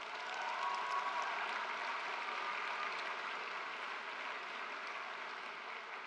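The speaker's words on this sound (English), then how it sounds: "Can we give them a round of applause?" Broad, steady applause from a graduation ceremony audience, a dense wash of many hands clapping that holds at an even, fairly loud level throughout without talk over it.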